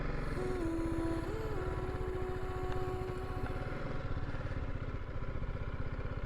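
Motorcycle engine running steadily while riding through open country in Turkey, a continuous mid-pitched drone with rapid pulsing exhaust and wind, fairly loud and close throughout, with no talk.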